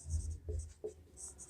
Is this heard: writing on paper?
yes